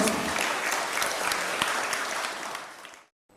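An audience at a spiritual talk bursts into applause, a dense, fairly distant patter of many hands that fades out and stops abruptly near the end.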